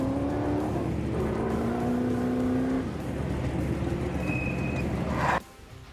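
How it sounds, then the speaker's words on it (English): Vintage 1979 Chenoweth buggy with a six-cylinder engine racing in the NORRA Baja rally, a loud sustained engine drone with shifting pitch as it accelerates, cutting off sharply near the end. "That is a vintage 6-cylinder buggy, a Chenoweth"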